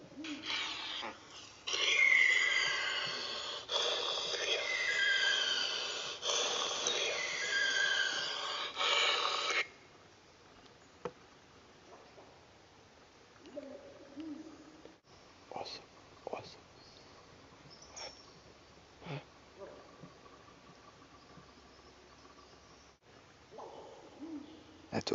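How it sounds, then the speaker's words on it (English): Monster sound effect played back: an eerie hooting, breathy cry in the first ten seconds, then quieter scattered noises with faint voices. "Play the monster sound."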